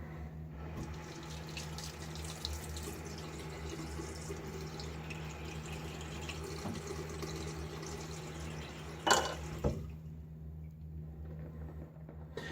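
Water runs from a tap as it is added to shaving brush lather, making a steady, faint, continuous stream with a couple of brief clinks near the end before it cuts off.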